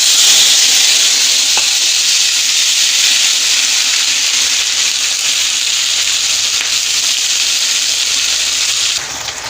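Two bay leaves and a ginger and green chili paste go into hot oil with mustard seeds and cumin for a soybean and potato curry, producing a loud, steady, close hiss of frying that fades slightly at the very end.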